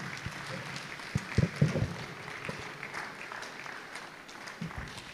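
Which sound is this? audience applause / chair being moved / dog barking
audience applause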